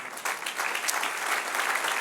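A church congregation applauds, a brisk, full burst of many hands clapping that starts abruptly and stays steady and close throughout.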